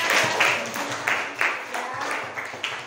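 A small class claps for a few seconds, sparse and uneven hand claps rather than a full ovation, with faint voices underneath, during a classroom lesson.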